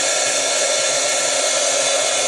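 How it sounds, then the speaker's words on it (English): A craft heat tool blows steadily to dry stamped ink on paper, a loud continuous whooshing hiss with no breaks. "And I'm going to heat set this really quick"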